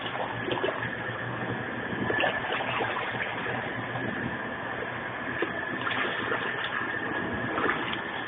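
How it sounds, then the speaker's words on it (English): A Hoover 0519 Deluxe twin-tub washer with its spin basket running: a steady churning whir with water sloshing and rattling, continuous and fairly muffled throughout, with no talking. "that starts the spin basket"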